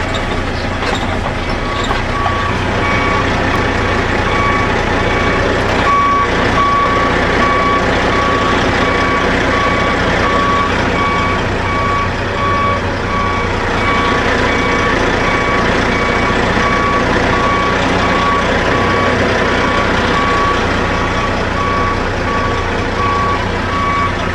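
A tractor trailer backs up with a steady, repeating reversing beep over a loud, constant engine rumble, close and unbroken throughout.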